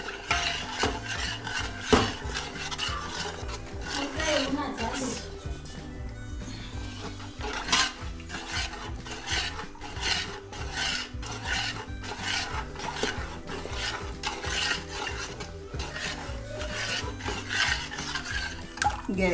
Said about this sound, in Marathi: गॅसवर पातेलं ठेवले आता मी. आता ते हटून घेते चांगलं.